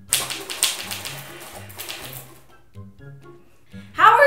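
A manual typewriter being typed on, with sharp, irregular keystrike clacks in quick bursts at close range, then a brief pause and a louder clatter at the end.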